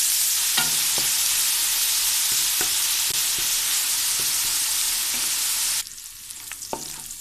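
Beef mince fries in a pan with vinegar and soy sauce, giving a loud, steady sizzle with occasional scraping stir clicks, then the sizzle drops sharply quieter near the end.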